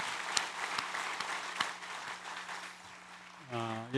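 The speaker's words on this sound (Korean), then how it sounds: "하나님께 영광의 박수를 드리겠습니다." A church congregation at a Korean Sunday worship service claps, a thin, fairly faint scattering of hands with a few sharper claps, before a sustained tone enters near the end.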